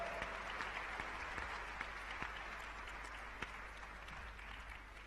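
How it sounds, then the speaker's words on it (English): A conference hall audience at the Global Entrepreneurship Summit in Hyderabad gives a warm, sustained round of applause, an even, dense wash of clapping that holds steady throughout. "please welcome her with a warm round of applause"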